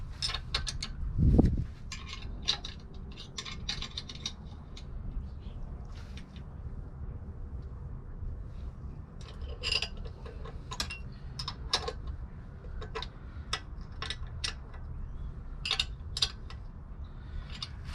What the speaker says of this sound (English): I'm gonna use this ratchet right here. I'm gonna use 5/8 to open up these nuts right here.